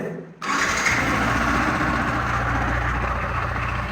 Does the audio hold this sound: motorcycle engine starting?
yes